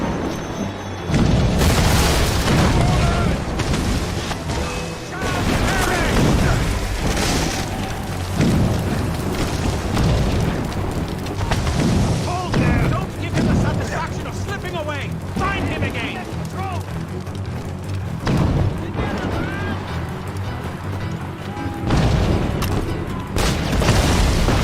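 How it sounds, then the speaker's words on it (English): Mortar explosions in the video game Assassin's Creed Rogue, loud repeated booms and blasts rolling through a dense battle soundscape, with shouting voices mixed in throughout. "Chevalier is using mortars to stop Shay!"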